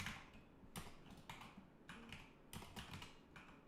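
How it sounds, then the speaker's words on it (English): Quiet typing on a computer keyboard, irregular bursts of soft key clicks in quick runs with short pauses between them, heard close and alone. "let me type it in"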